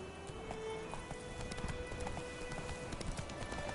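Hoofbeats of the horse Roach galloping in The Witcher 3, a quick steady clip-clop rhythm at moderate distance under faint game ambience, no talk.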